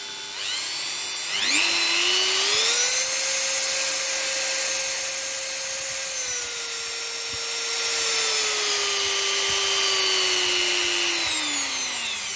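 A Dremel 4000 rotary tool, just repaired with a new armature and brushes, spins up from a standstill to its minimum speed. It gives a steady, loud, close whine with a high harmonic edge, then the pitch sags slightly toward the end.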